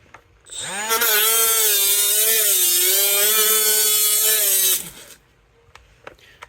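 A Hercules 12V right angle grinder whines up loudly at high pitch for about four seconds of cutting, then winds down and stops, leaving faint clicks and handling noise.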